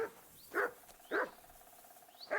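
A dog in the medieval game Kingdom Come Deliverance 2 barks three times at an even pace, each bark close and full, with faint outdoor ambience between them.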